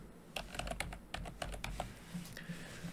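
Close, quiet clatter of keys on a computer keyboard, a quick irregular burst of taps followed by a few slower presses, heard alone without speech.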